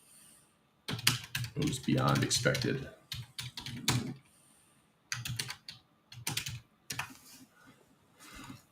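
Rapid bursts of computer keyboard typing, close and clicky, coming in clusters with short pauses, while someone talks briefly over it.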